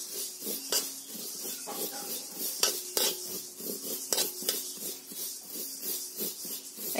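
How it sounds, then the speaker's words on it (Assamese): Mustard seeds roast dry on low heat while a metal spoon stirs and scrapes the pan, giving repeated clinks and scraping strokes over a faint steady hiss. "এতিয়া সৰিয়হখিনি বেলেগকৈ ভাজি লৈছোঁ মিহলি কৰি ভজা নাই"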